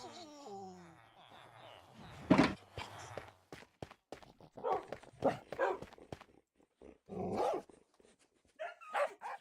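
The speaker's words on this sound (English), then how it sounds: "I have so many dogs" Dogs bark in the Minecraft video game, several short sharp barks and yelps in irregular bursts, fairly close, with some pitched sounds at the start.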